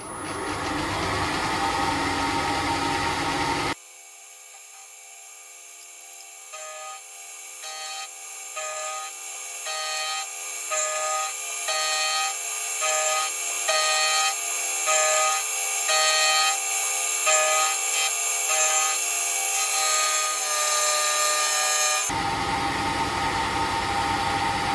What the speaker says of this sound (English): Time now to mill this corner off.